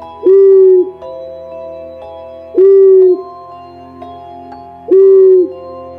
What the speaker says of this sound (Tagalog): bawat huni ng kwago ay tila nagdadala ng mensahe